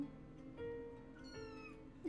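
In the video game Paranormasight, a kitten gives a couple of faint, thin meows over a quiet background, close by and alone, with no talking.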